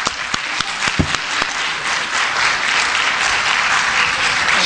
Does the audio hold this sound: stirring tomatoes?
no